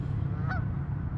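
A single short waterfowl honk rises briefly over a steady low outdoor rumble near water at sunset, moderately distant and with no talk.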